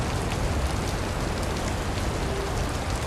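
Steady rain falls in a dense, even patter on surfaces, an unbroken wash of close droplets with no talk and no pauses.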